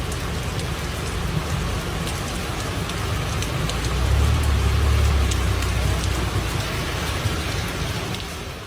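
Heavy rain pours steadily during a flood, a dense continuous hiss of drops on surfaces with a low rumble swelling midway, no voices.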